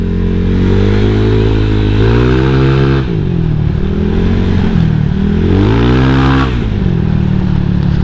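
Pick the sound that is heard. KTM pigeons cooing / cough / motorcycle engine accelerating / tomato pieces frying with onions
motorcycle engine accelerating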